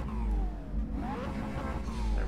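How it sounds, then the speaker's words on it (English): A race car's turbo whistles in a VR sim racing game, with a thin rising and falling tone over a steady engine drone as the car accelerates out of a corner, loud and close with no talk. "can hear that turbo"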